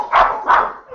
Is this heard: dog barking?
yes